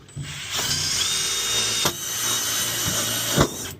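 A power drill drives screws into sheet metal during a heat pump installation, with a close, continuous whirring and grinding motor punctuated by sharp ratcheting clicks and three louder bursts as the screws bite, and no voices.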